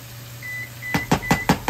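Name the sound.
oven beeping when preheated to temperature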